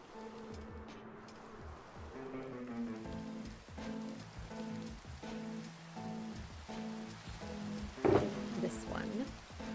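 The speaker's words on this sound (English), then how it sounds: "We can do this because it's raining." Steady rain falling in a video game, a constant soft patter and hiss, with quiet talking and some tonal game sounds mixed in over it.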